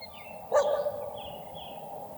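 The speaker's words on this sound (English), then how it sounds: "We got some dogs, a pack of dogs." A pack of dogs at an abandoned military base, with one short, loud bark standing out near the middle of the clip over faint ambient noise and distant higher yips.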